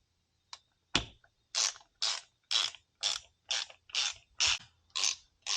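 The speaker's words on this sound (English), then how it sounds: "we're going to go ahead and grab our screws out of the bag here, and we're going to start threading them in the holes" Screws being hand-threaded into helicoil-repaired holes on a 1966 Harley-Davidson FL Shovelhead lifter block base, giving a clear, close run of about nine evenly spaced metallic ratcheting creaks, each lasting under half a second, with no talking.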